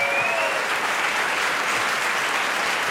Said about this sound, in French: J'espérais me faire applaudir moi et je fais applaudir Hakim, c'est pas grave.